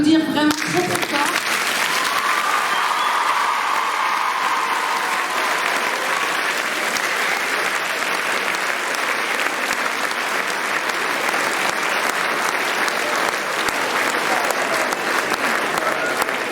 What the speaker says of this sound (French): Je pense qu'on peut applaudir vraiment très très fort.